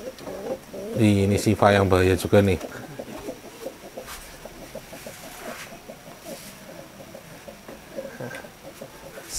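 A champion contest bird gives sharp bursts of calling early on, then quieter calls continue under people talking in a bird-keeping team's yard.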